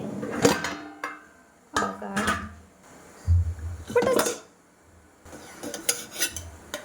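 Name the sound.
idli being taken out of the steamer pot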